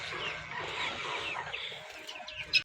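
Desi hens cluck softly on a poultry farm, a faint continuous murmur of fowl with a brief louder call at the end.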